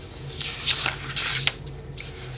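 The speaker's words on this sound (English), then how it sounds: "so I can actually get inside this part of the curve" A sheet of paper turned round on a table, close sliding and rubbing swishes in a few uneven bursts, with no one talking.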